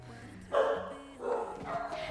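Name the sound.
dogs barking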